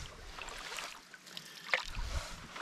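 A motor-driven canoe moves across a lake on a Lake Superior Provincial Park canoe route, producing a faint steady engine drone mixed with soft water wash and light wind.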